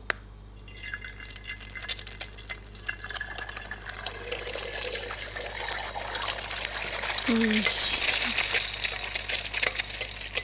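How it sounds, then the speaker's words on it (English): Egg frying in hot oil in a pan for nasi goreng, a steady crackling sizzle that grows louder partway through and continues close by, with a person talking over it. "So we're gonna fry the egg for the top first and then set it aside."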